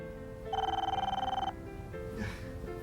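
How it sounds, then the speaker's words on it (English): A telephone bell rings once in a quiet room, a steady electronic trill lasting about a second before it stops, with low background murmur after. "Phone."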